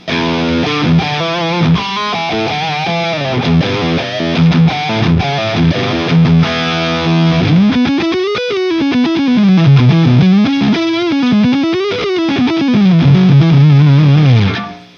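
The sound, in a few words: distorted electric guitar with boost pedal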